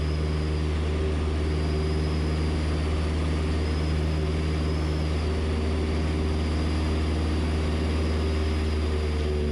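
A 200 mph aerobatic propeller airplane climbs just after takeoff from a short runway. Its engine gives a loud, steady, droning roar that holds unbroken from start to end.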